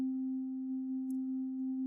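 A steady pure sine tone from a VCV Rack VCO's sine output, one sustained pitch with a faint overtone, holding level and unbroken for about two seconds with no voices.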